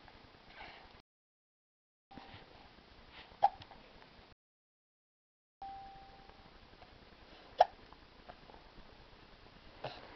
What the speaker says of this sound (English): Somebody have the hiccups?